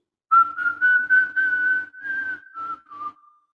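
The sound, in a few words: person imitating a wolf whistle at a woman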